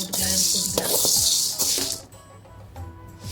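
Lentils dry-roasting in a pan for Andhra-style paruppu podi give a loud dry hiss and rustle with spoon scrapes, then the sound drops to quieter clinks near the end.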